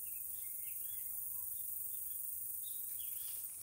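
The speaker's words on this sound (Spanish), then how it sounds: "Solo cantan los pajaritos." Small birds chirp and twitter outdoors in short, scattered calls, faint and somewhat distant over a steady high-pitched insect-like hiss, with no talking.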